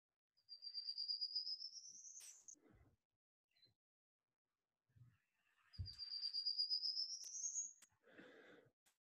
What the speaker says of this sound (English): let's listen to this prairie warbler